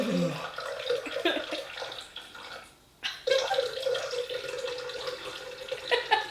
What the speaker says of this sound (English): let me pour it out.